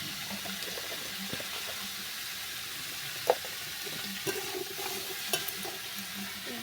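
Turmeric, salt and spices fry in a pan for a fish curry, giving a close, even sizzle with a few light scrapes and taps from stirring; no talking.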